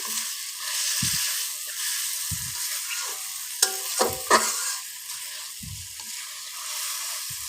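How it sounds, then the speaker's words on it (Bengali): Steady sizzling of vegetable stalks and potatoes frying with spices in a pan, with a spoon or spatula scraping and clattering against the pan several times as it is stirred. "মশলার সাথে ডাটা আর আলুটা খুব ভালোভাবে কষিয়ে নিচ্ছি"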